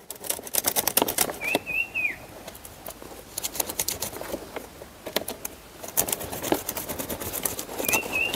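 A heavy, strong tarpaulin sheet is cut by hand, giving a run of crisp, irregular rasping and snipping bursts at close range, with birds chirping now and then in the background.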